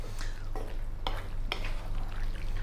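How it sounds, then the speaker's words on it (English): Stirring pasta in a thick, saucy pan sauce with bacon, chicken and sausage while it heats: a steady sizzle with several scraping, clacking stir strokes at roughly half-second intervals, close and fairly loud, no talking. "let's just cook it for another 3 minutes, stirring all the time just to heat up the pasta"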